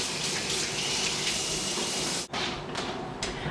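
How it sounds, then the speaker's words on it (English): Running tap water splashes over hands being washed in a kitchen sink during pork loin preparation, a close, continuous rushing stream with a brief dip partway through, and no speech. "I'm going to give my hands a quick wash."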